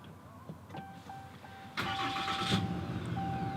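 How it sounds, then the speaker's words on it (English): A RAM 2500 Night Edition pickup starts by push button: a quiet cabin with a few soft chimes, then the engine cranks and catches abruptly, settling into a loud, steady idle rumble close by. "put your foot on the brake, hold it, and push this button to start it up."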